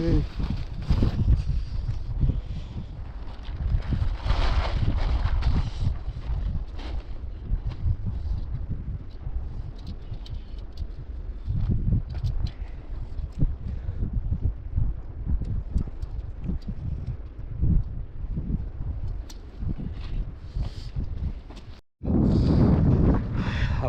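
Strong wind buffets the microphone in heavy, rumbling gusts outdoors at Dal Lake, Kashmir, while pitching a tent, with faint voices under the roar and a brief cutout near the end.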